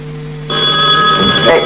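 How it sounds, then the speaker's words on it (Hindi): A telephone bell rings loudly and close, its bright tone starting abruptly and continuing, with a brief voice toward the end. "आप रुको, मैं टेलीफोन सुनती हूँ"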